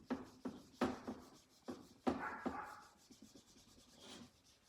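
An eraser wiping a board covered in a coordinate grid, soft irregular rubbing strokes with a few sharper taps, close but faint.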